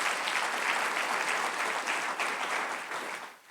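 A church congregation gives a loud, sustained burst of applause at a Sunday service, dense clapping filling the room steadily before tapering off at the end, with no talk over it.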